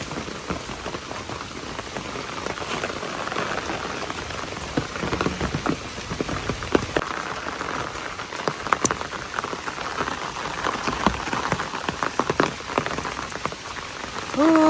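Heavy rain falls steadily over a flooded hill village in Bangladesh, a dense, even patter on surfaces close by and unbroken for the whole stretch.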